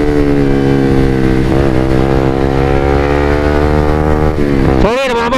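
A Suzuki GSX-R 150 motorcycle engine idling loudly and close with a steady buzzing drone, rising slightly in pitch, then revving sharply upward near the end with a quick throttle blip.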